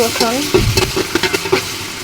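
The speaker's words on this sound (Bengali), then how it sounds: "রসুন বাটা দিয়ে একটু নাড়াচাড়া করে দেব" Garlic paste fried with browned onions in a pan sizzles steadily while a spoon scrapes and stirs in quick, irregular strokes close by.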